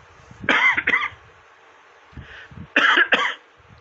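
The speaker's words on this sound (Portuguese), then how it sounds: "Deixa eu só tossir, desculpa." Two sets of harsh double coughs, close and loud, separated by a brief pause.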